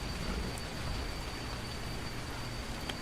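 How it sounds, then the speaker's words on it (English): Steady rain falls over a desert landscape in a video game, a constant even hiss of moderate loudness with no talking over it. "It's actually raining in the desert."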